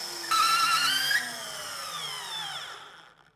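A compact, inexpensive THE BLACK TOOLS TB12A cordless drill drives a large screw into medium-hard, pre-drilled wood. Its high motor whine holds steady, rises briefly, then drops in pitch and tapers off as the screw seats.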